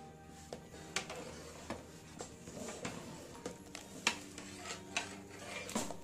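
A ladle scrapes and knocks against a large pot of thick mutton haleem, a 7 kg batch after two hours of cooking, giving a steady series of soft clanks and stirring scrapes with no talking.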